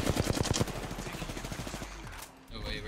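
Rapid automatic gunfire in an Apex Legends tournament match, a dense burst of shots for about two seconds followed by quieter game sounds, with players talking over it.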